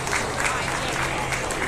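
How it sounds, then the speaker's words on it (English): Dense, steady applause from a crowd at a junior beef cattle show, filling the short moment without a break. "Let's give this young man a round of applause"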